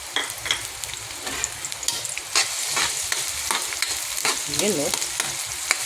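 Onions sizzle and fry in a hot pan over pork lungs for Kapampangan-style bopis, with steady crackling and stirring scrapes throughout, close and fairly loud; a voice speaks briefly.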